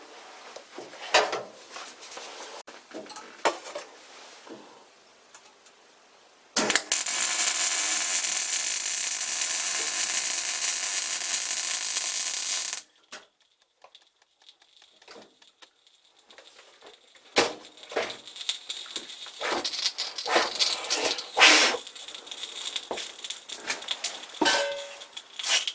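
Welding a quick release handle for a vintage lathe tailstock gives one sustained, loud, even buzzing hiss of about six seconds. Clanks and shop handling noises come before and after it.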